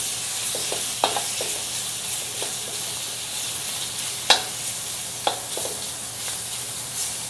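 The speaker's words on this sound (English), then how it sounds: "Quick browning, quick heat, that's really what a stir fry is all about." Pork stir-fries and sears in a wok over an open gas flame on unsealed burners. Loud, continuous sizzling carries throughout, with occasional sharp spatula knocks and scrapes against the metal.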